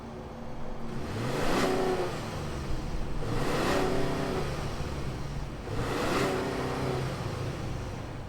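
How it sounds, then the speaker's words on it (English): A 2020 Ford F-150 Limited pickup truck engine starts and runs steadily, revving up in three distinct surges that rise and fall, loud and close with a low rumbling idle between. "let's fire it up and see what it sounds like"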